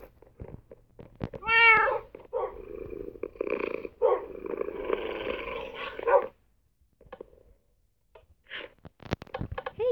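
A Minecraft cat meows clearly near the start, followed by a stretch of growly, purring animal vocalizations and scattered clicks, then brief quiet.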